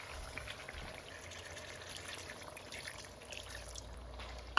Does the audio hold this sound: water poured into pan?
yes